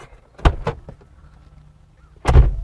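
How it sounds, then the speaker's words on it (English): A couple of mechanical clunks and rattles, then a heavy Jeep Wrangler door slams shut nearby with a deep thud. "that mechanical door close"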